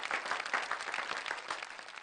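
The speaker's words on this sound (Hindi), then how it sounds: "आप दोनों इनके लिए जरा तालियां बजाइए" A studio audience on a Hindi television variety show gives steady, dense applause for a guest, moderately loud and continuous for about two seconds.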